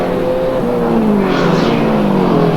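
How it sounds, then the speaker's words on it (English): Race cars at a 1989 AMSCAR event at Amaroo Park roar steadily down toward a corner, engines droning loud and close with a pitch that shifts as one car draws past, no talk over them. "Sits in behind Brian Callahan as they make the run down to Sutton's corner."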